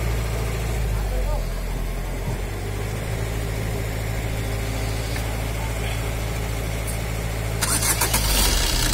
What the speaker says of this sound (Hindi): गाड़ी हमारी स्टार्ट हो चुकी है